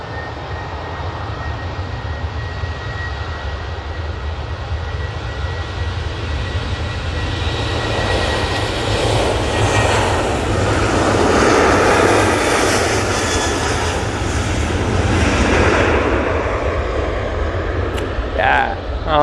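An Ethiopian airliner landing at Manchester Airport gives a loud, steady jet engine roar that swells toward the middle and holds, with broadband rushing noise throughout and some talk underneath.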